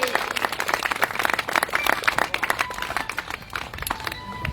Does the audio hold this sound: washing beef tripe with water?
no